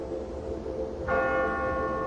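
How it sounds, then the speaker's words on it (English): A church bell tolls, its bright sustained ringing tones entering about halfway through over a low rumbling background, loud and steady once struck. "Church bells tolled day and night."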